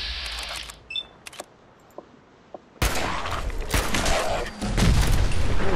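Explosions from mines in the video game Fallout 4, a few sharp clicks followed by a loud, sustained rumbling blast that swells toward the end, with no talking.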